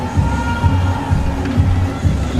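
A cricket crowd at a Test match in Durban cheers a Jacques Kallis cover drive, a dense steady roar of many voices with rhythmic surges and claps, moderately loud and continuous over the whole moment.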